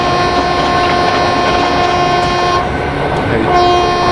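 A WAP-4 electric locomotive hauling an ICF-coach express train sounds its horn in a train simulator on the Kerala valley route, a loud sustained honk over rolling rail noise, briefly dipping midway before resuming.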